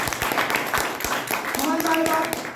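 Hands clap in a steady patter of audience applause at a business presentation, moderately loud, with a voice speaking briefly over it partway through.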